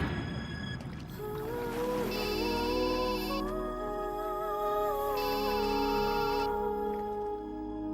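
A phone ringtone in a Telugu comedy film scene plays in two sustained electronic bursts, fairly loud, set against a steady wash of background music.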